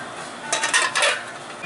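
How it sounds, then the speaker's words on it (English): A metal lid being fitted onto a pressure cooker holding a liquid mash for distilling, a short cluster of close metallic clinks and scrapes lasting about half a second. "Get the lid on the pressure cooker."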